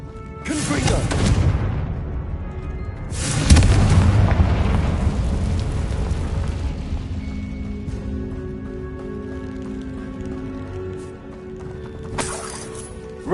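Confringo spell explosions in Hogwarts Legacy, two heavy booming blasts a few seconds apart that rumble and fade, followed by a lighter magical burst near the end, amid game ambience.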